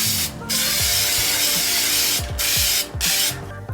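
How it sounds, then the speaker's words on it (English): Bronze hammered-texture spray paint hisses from a can in several close bursts separated by short pauses. "this is the spray paint that I'm using"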